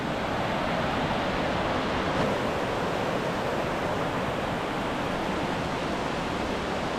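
Seasonal waterfall at Wahclella Falls in the Columbia River Gorge, a drop of roughly 100 to 120 feet, giving a steady, loud, broadband roar of falling water that runs unbroken throughout with no voices.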